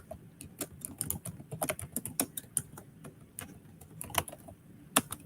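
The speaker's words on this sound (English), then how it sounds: "I'm typing in the chat." Fingers type on a computer keyboard in quick irregular bursts of sharp clicking keystrokes, close by and fairly quiet, with brief pauses between runs and no talking.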